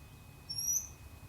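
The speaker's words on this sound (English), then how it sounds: "She's chirping a little bit because she's starting to get a little unnerved by the process." A dog chirps nervously during nail grooming, giving a single thin, high squeak that rises briefly out of quiet background, with no talking.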